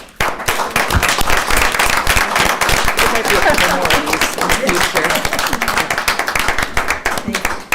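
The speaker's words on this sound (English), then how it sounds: "I think that she deserves a round of applause." People at a school board meeting applaud a retiring staff member with dense, loud, sustained clapping from a room-sized crowd that stays steady throughout.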